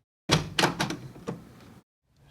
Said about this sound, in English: Like let's say, for example, door open.